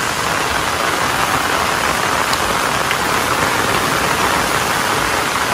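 Rain pours down on a cashew orchard during planting, a loud, continuous wash of noise that stays constant throughout.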